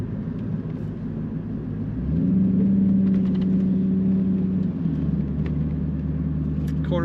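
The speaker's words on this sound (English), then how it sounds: "as you can tell, the kickdown does work on that automatic transmission" A 2002 Chevrolet Camaro Z28 convertible with an automatic transmission kicks down, its engine jumping to a louder, higher, steady rev for a few seconds before settling back to a lower drone as road noise continues.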